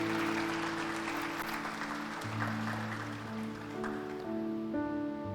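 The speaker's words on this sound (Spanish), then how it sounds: "¿Por qué no aplaudimos a nuestro Padre que está en los cielos?" A church congregation breaks into sustained applause during a Spanish-language sermon, a dense, steady wash of clapping heard close and full throughout, with organ or keyboard chords sounding underneath.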